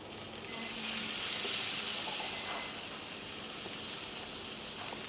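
Meatballs sizzle and hiss in a hot non-stick pan, a steady, close, fairly loud frying sound with a faint steamy wash and no voices.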